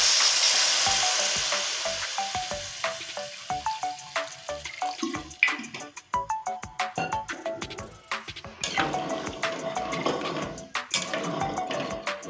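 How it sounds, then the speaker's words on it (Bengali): Taro (kochu) sautés in a pan with soft sizzling, while a spatula scrapes and clinks against the metal in an irregular rhythm, close by and moderately quiet. "এই দেখুন এরকম ভাবে কষিয়ে নিয়েছি কচুটা।"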